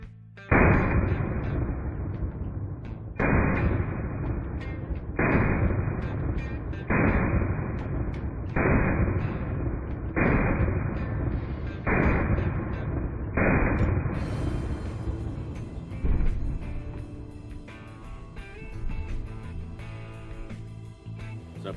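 Eight sharp, evenly spaced shots from a brand new Beretta Tomcat pistol firing .32 ACP into ballistic gel, loud and close, followed by a stretch of softer handling clatter and background noise.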